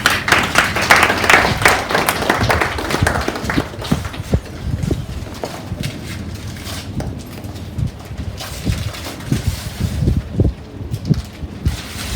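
Audience applause at a Handloom Day conference book launch, a dense burst of clapping that is loudest at the start and thins into scattered claps over about twelve seconds.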